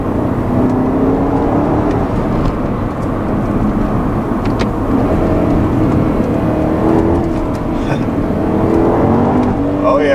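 A 2011 Porsche Panamera Turbo accelerates hard with its rear wheels spinning, a loud continuous engine roar with rising whine heard from inside the cabin. It stays steady for the whole stretch.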